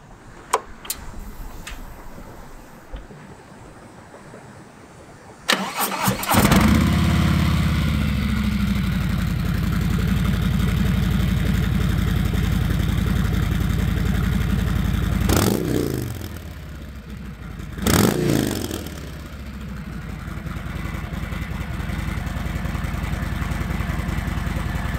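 A 2019 Harley-Davidson Road King motorcycle cranks and fires up, then settles into a loud, close, steady idle, with two sharp throttle blips partway through.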